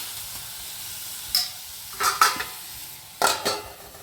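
Softened tomatoes with coriander powder sizzle in a pan, a low steady hiss broken by a few sharp stirring clatters of a spoon against the pan, close by with no voices.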